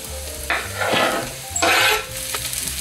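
Sliced potatoes sauté with leeks in a pan, close up, as a few scraping stirs rise over a continuous, soft sizzle.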